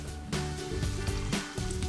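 Rockfish from Gageodo island, coated in frying batter mix, crackles and sizzles in hot oil with a dense, steady hiss and small popping surges, close by.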